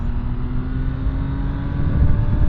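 A 2023 MV Agusta Brutale 800RR motorcycle engine burbling while decelerating, a close, loud, steady low rumble with wind noise that swells slightly toward the end.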